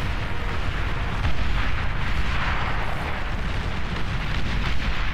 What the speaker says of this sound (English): They're just firing at the ground.